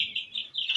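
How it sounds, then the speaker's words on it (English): Young poultry chicks on a Nigerian farm give a brief run of high, steady peeping chirps, close and clear with no talk. "the birds are doing very well"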